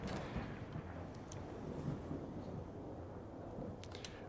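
Rolling thunder and steady rain from a storm mod in Fallout 4 rumble continuously at moderate level, with a few sharper crackles near the start and end.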